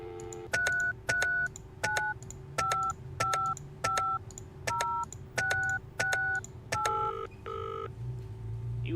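Touch-tone telephone dialing in the video game Penelope Pendrick and the Art of Deceit: a run of about eleven evenly spaced dual-tone beeps, clear and close, with a steady hum underneath and a brief ring at the end.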